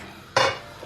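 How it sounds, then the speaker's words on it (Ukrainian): A single soft, short scrape and clink of a spoon tipping chicory powder into a cup, then quiet. "сипемо цей порошочок, я буду ложку сипати"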